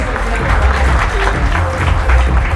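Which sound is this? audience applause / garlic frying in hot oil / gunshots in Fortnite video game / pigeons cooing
audience applause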